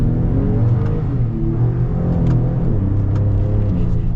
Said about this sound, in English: it looks like we've got a clearing here to get our full-blown acceleration with this Raptor that's lifted